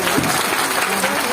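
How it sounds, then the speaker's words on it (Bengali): A dense burst of crowd applause, close and full, fills a brief moment at a lively gathering, with faint voices mixed in beneath the clapping. "আর হাততালি জোরে"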